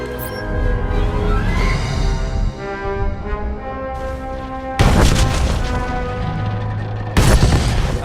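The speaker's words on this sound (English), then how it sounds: "The charges have detonated." Explosive charges detonating at the Gormak cannon on Voss in Star Wars: The Old Republic: two heavy, sudden blasts a few seconds apart, each a loud broadband boom cutting through a sustained tonal score.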